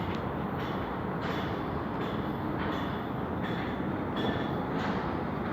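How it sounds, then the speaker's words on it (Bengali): An electric train passes close by with a loud, steady roar and a faint repeating rhythm of wheel beats throughout. "এই কারেন্টের রেল।"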